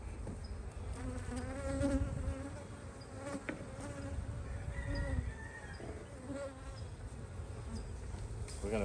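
Honeybees swarm around an open hive as honey and brood frames are pulled during a spring swarm-prevention inspection, a dense, steady buzz close to the microphone with bees darting past in wavering tones throughout.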